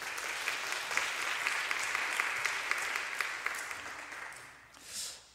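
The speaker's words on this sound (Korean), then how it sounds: "박수로 시작하겠습니다" A congregation claps steadily at a Korean worship concert in a church, a dense, even patter of many hands that fades away near the end.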